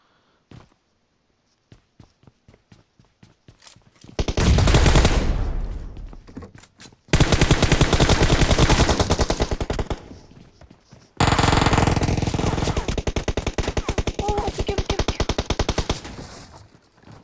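Loud bursts of automatic gunfire in PUBG Mobile, three long sustained volleys after a few faint isolated shots, close and intense with no talking.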